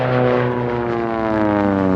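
An Advanced RV7 propeller airplane races at the Reno Air Races, its engine a loud, steady droning roar with a whining buzz that shifts slightly in pitch as it passes.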